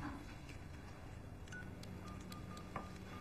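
A mobile phone being dialed: a quick run of short, faint keypad beeps at irregular intervals over a steady low room hum, with no voices.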